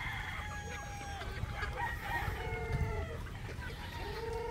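A crowd of chickens clucks constantly on a Philippine poultry farm with breeding stock, while a rooster crows among the chatter of many birds, all close and fairly busy.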